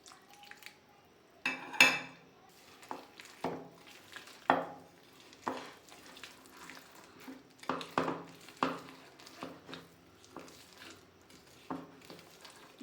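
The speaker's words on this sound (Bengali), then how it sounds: "এইভাবে এটাকে দুধ দিয়ে দিয়ে মিক্স করতে হবে।" A spoon clinks and scrapes against a bowl while fruit cake batter is stirred with milk for a Christmas cake, giving irregular close taps and soft wet scrapes with no talk.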